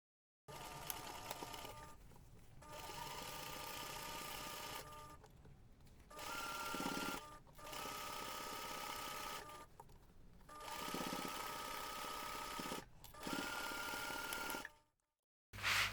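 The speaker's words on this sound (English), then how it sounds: "Then you can take this to the machine and sew the seam." A sewing machine stitches a laptop bag seam in several sustained runs of steady mechanical whirring, separated by brief pauses, loud and close.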